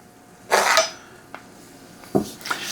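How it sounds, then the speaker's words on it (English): Kielbasa drops into a not-yet-hot frying pan with a clattering metallic clink, followed by a few lighter knocks and taps of utensils against the pan, close and without talk. "I'm gonna go ahead and drop this in, even though I know the pan's not hot enough yet"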